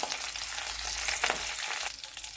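Garlic slices and curry leaves sizzle steadily in hot oil, a close, continuous crackling fry with a brief flare of louder spattering midway and no talking.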